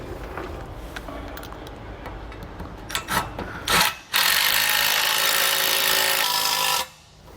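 A power tool drives a Loctite-coated bolt into a bracket while installing an RV 5th wheel leveling system, starting with scraping and brief bursts, then a steady loud whirring run of about three seconds that stops abruptly.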